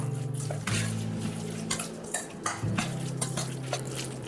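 Salmon tartare being mixed with lemon juice in a bowl: light spoon clinks and wet stirring scrapes at an uneven rhythm over a steady background hum, close by and without speech.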